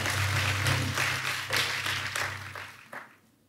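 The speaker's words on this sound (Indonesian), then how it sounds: "Tepuk tangan yang paling meriah buat." A church congregation breaks into applause, a dense wash of hand claps that holds steady for about two and a half seconds over a low hum, then thins out and fades to near quiet.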